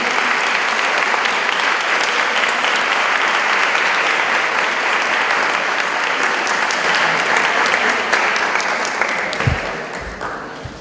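An audience applauds at a ceremony to thank the authorities of a film school: dense, sustained clapping at full volume that carries on steadily, then breaks into a few heavier thumps as it dies away near the end.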